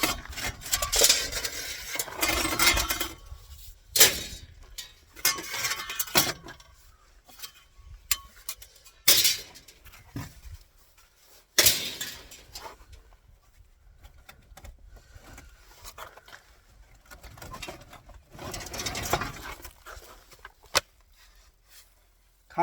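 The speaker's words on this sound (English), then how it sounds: "There's a lot of glass in back here." Loose glass pieces clink and rattle as a junked car is cleaned out, with scattered close crunches and clatters coming in bursts between quieter gaps.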